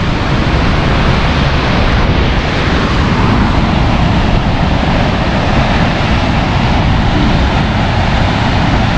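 The Lower Falls, a large waterfall in Yellowstone National Park, thunders in a loud, unbroken roar of rushing water that fills the whole stretch with no voices over it.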